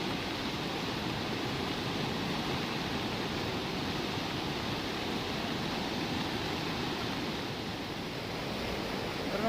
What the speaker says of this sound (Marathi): हा पूर पहा मित्रांनो, अजून सुद्धा पाणी वाढू राहिलं चांगलंच